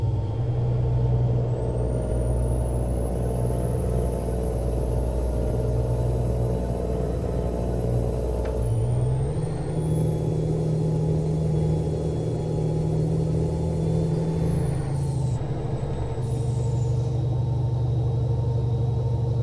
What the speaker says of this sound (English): the Jake brake is my favorite